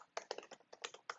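Quick, crisp keystrokes on a computer keyboard click in an irregular typing rhythm, close and fairly quiet, with no voices.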